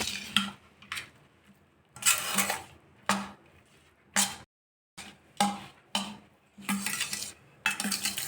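Tamarind rice being stirred in a large pot at home, giving a series of short, scraping and clattering strokes in uneven bursts with brief pauses between them, close and fairly quiet, with no talking.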